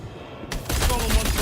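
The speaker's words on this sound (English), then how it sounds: "Laying down covering fire" Video game gunfire erupts as a burst of rapid shots after a quieter moment, loud and dense to the end.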